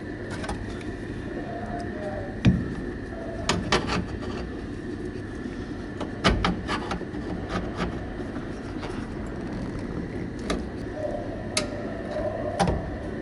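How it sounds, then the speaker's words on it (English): Tin snips cut the metal corner off a fuse box in a Datsun, giving a series of sharp metallic snips and crunches at irregular intervals over a low background hum. "so we're using some tin snips"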